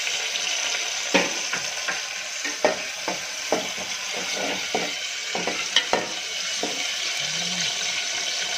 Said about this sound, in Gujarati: હવે મસાલા સાથે આપણે ટામેટાને કૂક થવા દઈશું.